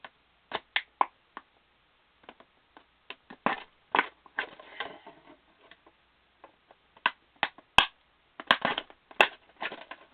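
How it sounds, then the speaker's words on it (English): Holes are punched into a plastic water bottle, giving close, sharp crackling pops and crinkles in scattered bursts separated by short quiet gaps. "I'm going to show you what it looks like if you punch holes in it."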